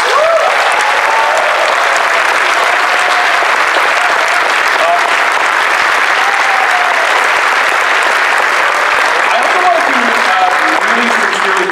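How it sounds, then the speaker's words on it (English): A large convention crowd at a furry convention's closing ceremony applauds for the programming team, a loud, sustained wash of clapping with occasional cheers running for about twelve seconds. "huge round of applause for the programming team"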